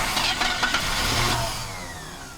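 A Chevy C10 truck, junked for seven years and with a stuck carburetor, catches and fires up with a quick rev, then runs briefly before fading.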